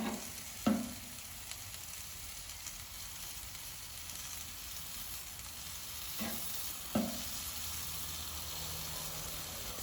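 Pork barbecue skewers sizzle steadily on a hot grill, a constant frying hiss with a few sharp clacks as the sticks are flipped, close and moderately quiet, with no voices.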